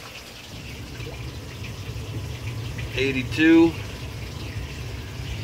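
Water runs steadily into fish room tanks during a large water change, a constant low gush with a person talking over it throughout.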